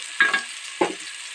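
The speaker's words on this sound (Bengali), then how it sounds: "সেই মশলা পেস্ট করে রাখা ঢেলে দিচ্ছি" Spice paste with ginger being poured into hot oil for hilsa pulao, giving two short bursts of sizzle and clatter over a low steady frying hiss.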